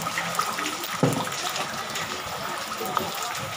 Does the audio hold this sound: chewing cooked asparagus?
no